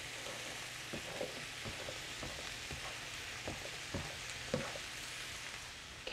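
Zucchini frying in a pan, a steady soft sizzle with occasional light knocks and stirring taps, heard at a moderate distance and fairly quiet.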